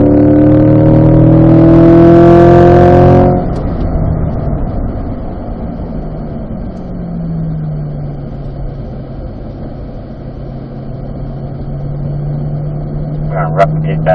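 A Chevrolet Corvette engine revs hard on a race track for about three seconds, then the throttle lifts and the car settles into a steadier, lower drone as it rolls on, with brief clicks near the end.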